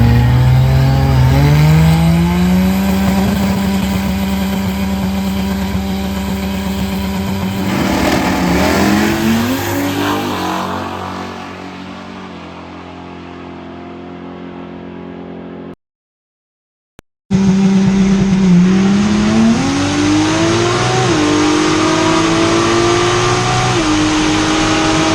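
A 2JZ-powered race car launches down a drag strip, its engine roaring loud and climbing through several gear shifts, then cutting off briefly before revving up again.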